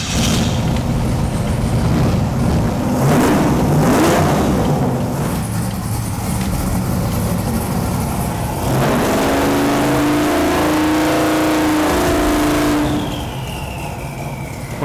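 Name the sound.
turbo drag car engine revving on the 2-step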